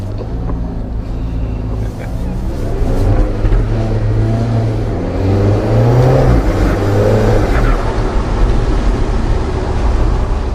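A 2015-onward-style Alfa Romeo 4C Spider pulls away in first gear, its engine note loud and close, rising in pitch as the car accelerates with steady road rumble beneath.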